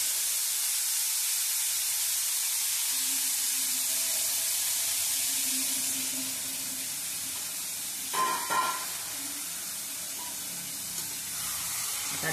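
Soaked, washed masoor dal sizzles in hot tempering oil, a steady close hiss that eases partway through, with a brief stirring clatter midway.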